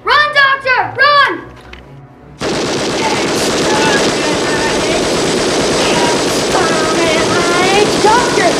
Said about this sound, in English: And it has a space gun.